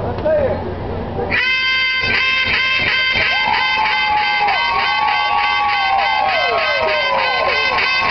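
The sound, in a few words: competition-style duck call imitation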